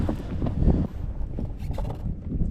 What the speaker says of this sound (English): We're fighting some worse wind coming now.